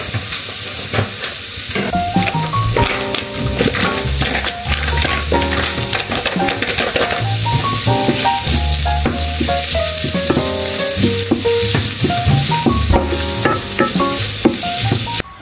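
Bacon frying in a pan sizzles steadily and loudly for the whole stretch, with clinks and scrapes of stirring and cooking utensils over it.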